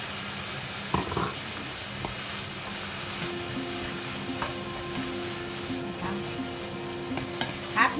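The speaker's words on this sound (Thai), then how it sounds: "เต้าหู้ลงไปนะคะเห็ดหอม ขิงนะคะพัด พัดให้ขิงสุกค่ะ" Tofu stir-fried in a pan with ginger and shiitake mushrooms, a steady close sizzle with scattered scrapes and clinks of the spatula stirring, no one speaking.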